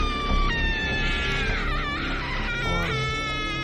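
A woman screams loudly and at length as water is sprinkled on her, the shrill wailing cry rising and falling in pitch without a break, close and harsh over a busy background.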